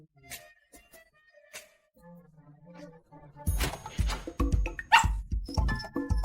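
A dog barks loudly and close by in a rapid series of sharp, repeated barks that burst in suddenly after a quiet stretch, within a dramatized scene.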